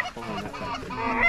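Geese honking loudly and close during an early season goose hunt in Michigan, a dense, continuous burst of calls.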